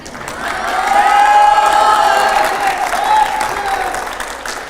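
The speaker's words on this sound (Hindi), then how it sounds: "जरा जोरदार पहले तालियां हो जाए" A studio audience at a televised political interview show breaks into loud, sustained applause mixed with crowd cheering and whistle-like tones, swelling over the first second and holding strong for nearly five seconds.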